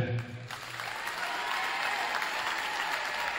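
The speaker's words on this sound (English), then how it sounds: "Let's have a round of applause for Jack." A crowd at a high school boys' varsity wrestling event applauds in a gym, steady dense clapping swelling after a brief announcement voice at the start.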